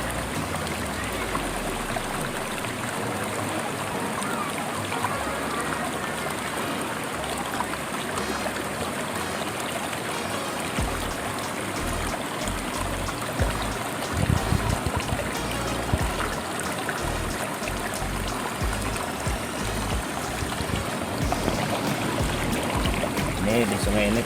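A river flowing over moss-covered rocks, a continuous close rushing and trickling wash that never lets up, with occasional splashes and a voice talking over it.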